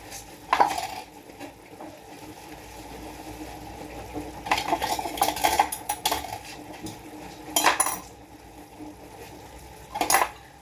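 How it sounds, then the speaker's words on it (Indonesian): Plates, pots and cutlery clatter in bursts of dish-washing after a charcoal barbecue, sharp clinks coming in several separate clusters over steady background noise, with no talk. "Terus sampai cuci piring ya guys."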